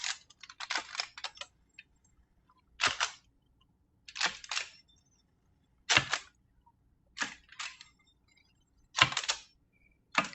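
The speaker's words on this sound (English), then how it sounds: "I'm just scoring this with a pizza cutter" A pizza cutter rolls through buttery Parmesan sourdough discard cracker dough in a series of quiet, brisk scoring strokes, roughly eight short scraping bursts separated by brief pauses, with no talking.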